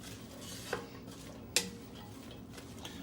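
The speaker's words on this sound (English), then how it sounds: "We're going to stir it around." Onions and tasso being stirred in oil with a spatula for gumbo, a soft low sizzle under quiet scraping, with a couple of sharp clinks of the utensil against the pot.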